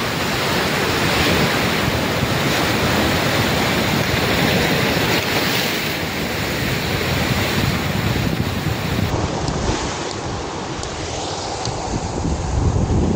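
Loud, continuous roar of strong ocean surf at a beach campsite in Lian, Batangas, mixed with heavy wind buffeting the microphone, unbroken throughout.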